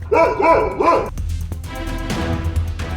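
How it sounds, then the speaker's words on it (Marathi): A dog shut alone inside a locked house barks three times in quick succession, close and loud, followed by muffled background noise. "त्या शांततेला चिरत 3 दिवस एकच आवाज येत होता, शेरूच्या भुंकण्याचा।"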